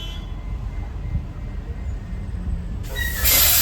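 A Disney's Animal Kingdom tram pulls away from rest, giving a low rumbling drive noise with a rising hiss that swells louder near the end; no talk over it.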